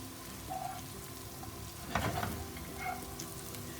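Garlic sizzles steadily in a hot pan with low frying crackle, a brief louder stir or scrape partway through, and quiet kitchen ambience throughout.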